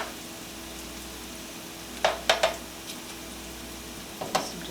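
Zucchini fritters fry in oil in a pan, a quiet steady sizzle broken by a few clustered scraping and tapping sounds from a utensil.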